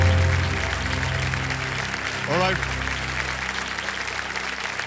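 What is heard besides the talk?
studio audience applause on a game show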